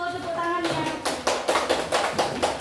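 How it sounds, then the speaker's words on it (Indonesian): Schoolchildren in a classroom clap for a group after their presentation, a set of loose rhythmic claps starting partway in, near and moderately loud over a brief voice and room murmur. "Tepuk tangannya"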